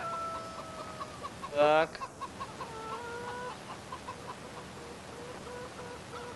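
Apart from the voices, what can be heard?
chickens and rooster clucking in video game Farming Simulator 2015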